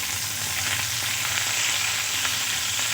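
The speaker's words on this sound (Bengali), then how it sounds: "আর ফুলকপি আমি কিছুক্ষণ ভালো করে ভেজে নেব।" Cauliflower pieces frying in a pan give off a loud, continuous hissing sizzle with a faint low hum beneath, close up and steady over a few seconds, without any voices.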